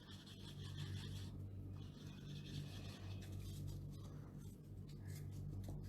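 A cotton earbud rubbed steadily across pencil shading on paper to blend it gives a faint, continuous, soft scratchy rasp with no pauses and no talk.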